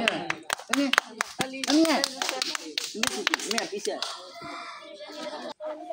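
A group clapping for a prize winner at a children's game, bursts of quick hand claps mixed with lively voices and excited kid chatter, close and fairly loud.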